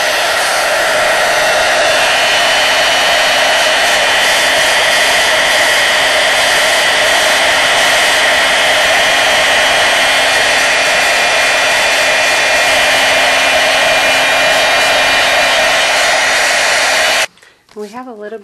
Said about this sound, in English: I'm going to get my heat tool and heat it